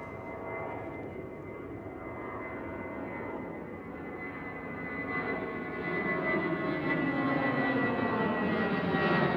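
A British Airways jet at Schiphol makes a steady engine whine and rumble that grows louder toward the end, heard alone without voices.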